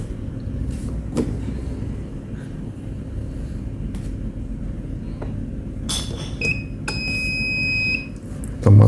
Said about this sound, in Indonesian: Sekarang kita tes fungsi alarm.